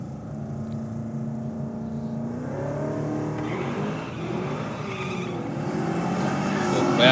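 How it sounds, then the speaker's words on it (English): A Falcon car does a burnout at a drag race, its engine roaring and tyres squealing as the sound builds louder toward the end, heard at a distance beneath a commentator's talk. "Well, again, nice strong burnout from the Falcon."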